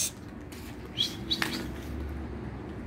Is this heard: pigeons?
yes